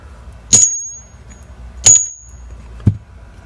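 An Engelhard silver bar rings twice in a sound test, each strike giving a bright, sustained high ping that slowly decays, followed by a duller third tap; close and clear over faint room noise.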